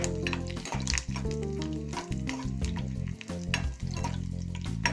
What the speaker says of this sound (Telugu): పోపుని మంచిగా వేగనివ్వాలండి, వేగితేనే మంచి టేస్ట్ వస్తుంది మనకి.